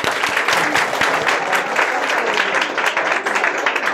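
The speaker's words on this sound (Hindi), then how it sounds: "ताली बजाओ आप लोग" Audience applause at a coaching seminar in Bikramganj as a guest teacher is welcomed, steady dense clapping from a crowd throughout, with a voice talking over it.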